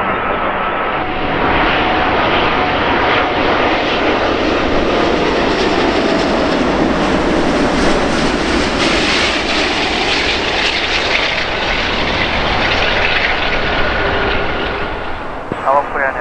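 A Lufthansa Airbus A380 landing on runway 24 right at LAX produces a loud, sustained jet engine roar that swells and then holds for about fifteen seconds before easing off.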